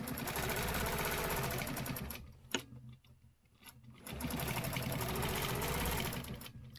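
A sewing machine runs steady stitching through a stenciled quilt, a dense whirring rattle that stops for about two seconds with a brief click, then resumes at the same even pace, close and without talk.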